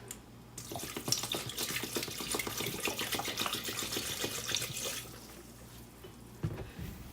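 Apple cider poured into a jar makes a steady splashing, trickling stream for about five seconds before tapering off, followed by a faint clink.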